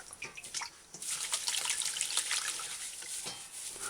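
Herb leaves are dipped in and out of a bowl of salted water, giving soft, faint splashes and trickling drips that rise and fall in quick irregular bursts.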